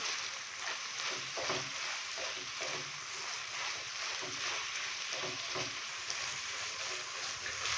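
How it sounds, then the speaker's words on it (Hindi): Chicken mince fries in a pan with tomatoes, black pepper and crushed red chilli, giving a steady, soft sizzle broken by occasional scraping stir strokes throughout. "तो अभी इसको मज़ीद भून लेंगे 3 से 4 मिनट के लिए, ताकि टमाटर भी थोड़े से नरम हो जाएं"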